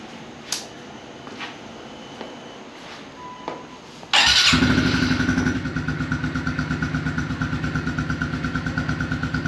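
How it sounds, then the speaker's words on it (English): Honda CRF 110 dirt bike kicks into life after a few quiet clicks and fumbles, then settles into a loud, steady single-cylinder idle with an even rapid pulse, running alone without talk. "So we'll go ahead and start the bike up, let it run"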